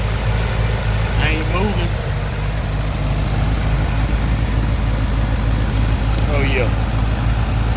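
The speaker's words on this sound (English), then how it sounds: "Motor running like a snot nose." A car engine idling steadily with a low, even rumble and vibration throughout, while people talk briefly nearby over the running motor.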